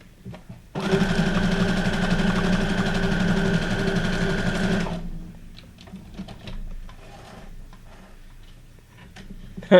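A sewing machine stitching paper journal cards cut from guest checks, a steady loud mechanical whir for about four seconds that then stops, followed by quiet handling sounds.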